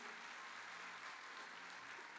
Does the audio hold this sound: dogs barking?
no